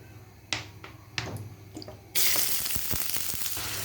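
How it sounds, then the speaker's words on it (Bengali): Bottle gourd peel paste frying in oil, a loud steady sizzle that starts abruptly about halfway through, after a few sharp clicks and taps, with no talk. "এখন একটু তেল দিয়ে ভেজে নেব।"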